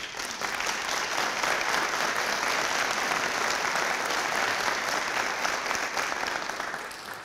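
Audience at a police awards ceremony gives a round of applause for the officers, sustained crowded clapping rising quickly and holding steady before tapering slightly at the end, with no talking.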